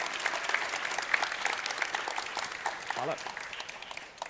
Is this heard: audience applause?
yes